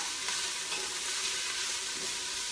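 Minced garlic being stirred into vegetables in a hot oiled pot for chicken lentil soup, a steady close sizzle with soft scraping strokes running throughout, no talking.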